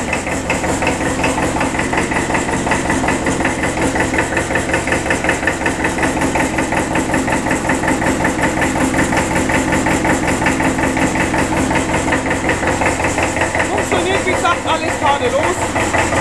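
An old Kramer diesel tractor engine idles steadily and loudly nearby, with a rapid, even knocking chug that holds throughout.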